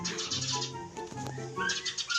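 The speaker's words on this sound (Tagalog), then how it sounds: "ang ingay ng mga ibon" Birds in Minecraft chirp and tweet in quick repeated bursts, several overlapping calls close and fairly loud against a quiet background, with no speech.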